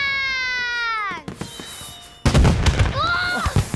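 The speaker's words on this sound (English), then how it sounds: "a super loud banging rocket did" A cartoon fireworks rocket gives a rising whistle that drops away, then a loud sudden bang with crackling bursts follows, up close, with a short voiced exclamation between them.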